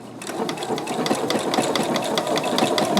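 A sewing machine stitches applique with a fast, even mechanical clatter, close and loud, running steadily the whole time.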